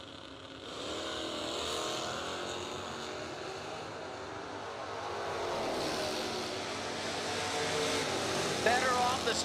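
Drag race cars launch and roar down the strip at a bracket racing event, engine noise swelling and growing louder toward the end, under steady announcer commentary.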